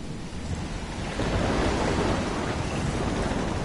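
Stormy sea in a PS4 game, with a steady roar of wind and crashing surf that swells louder about a second in and stays dense and unbroken, no voices.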